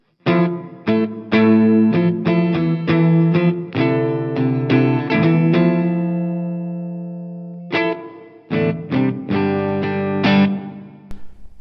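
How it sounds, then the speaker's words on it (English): A sustained synth or guitar chord rings out through the room reverb setting of an M-Vave Mini Universe pedal, with repeated plucked or strummed notes whose tails blend into a short, roomy decay. "that's just for like a everyday reverb sound"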